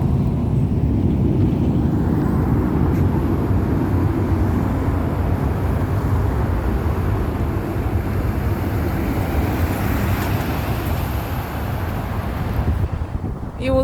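Steady loud broadband roar of a plane passing overhead near a campus, a continuous rushing drone that holds for the full stretch with wind buffeting the microphone and no voices.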